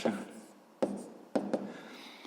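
A pen writes numbers on paper in a few short scratchy strokes with brief pauses between them, close and quiet, with no talk.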